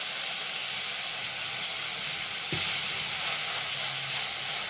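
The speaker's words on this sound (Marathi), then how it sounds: "अद्रक लसूणची पेस्ट टाकते त्याच्यामध्ये" Ginger-garlic paste sizzling steadily in cow's ghee with whole spices, a continuous close frying hiss with a brief stir or clank midway.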